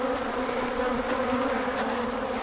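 Wild caught bees swarm around a hive, filling the air with a steady, dense, close buzzing hum that never lets up.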